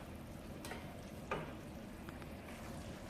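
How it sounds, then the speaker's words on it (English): Chicken gizzard frying in a small amount of oil in a pot, a faint steady sizzle and crackle with a few soft stirring scrapes, no voices. "Let's leave it to cook until the gizzard is really cooked"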